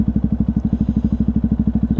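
A modified Yamaha WR125X motorcycle engine thumps at a steady, rapid idle, each firing pulse close and loud in an even rhythm.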